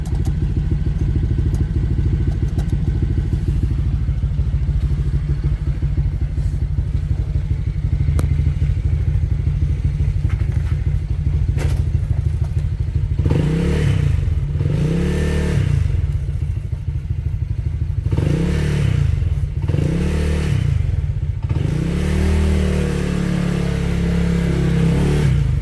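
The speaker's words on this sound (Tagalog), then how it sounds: "talagang maririnig mo yung vibrate nung disc natin dito" A motorcycle engine runs steadily up close, then surging revs come in repeated swells as the floating brake disc rattles and clatters with vibration, loud and with no voices.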